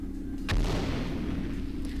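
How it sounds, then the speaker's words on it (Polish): A grenade explodes in the shooter game James Bond 007: Nightfire, one sharp close blast that tails off into a rumbling decay over steady game background noise. "Granat jest, granat wybucha, prawda?"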